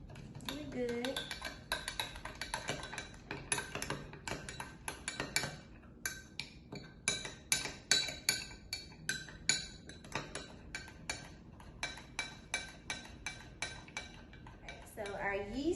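A spoon stirs a yeast mixture in a container, giving a steady run of quick clinks and scrapes against the sides that vary in strength and stay close and clear throughout.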